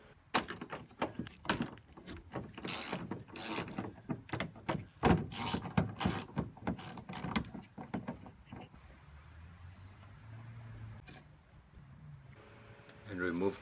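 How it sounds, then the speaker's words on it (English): A ratchet with an 8mm socket works nuts off a Honda Odyssey tailgate taillight, giving a run of close, sharp clicking bursts, then fading to a quiet hum. "Remove the two nuts with an 8mm socket."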